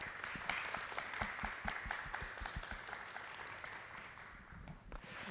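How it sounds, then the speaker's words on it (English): A junior high school concert audience applauds honoured student musicians, a quiet, distant field of scattered claps that holds steady for several seconds and thins slightly near the end. "Give them a round of applause."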